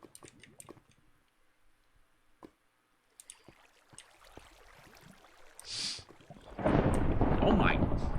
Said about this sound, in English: how's the storm so realistic sounding?